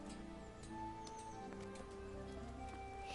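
Horse hooves in the medieval video game Kingdom Come: Deliverance, a faint, quick clip-clop of steps over a steady tonal game background with a low hum, with no speech.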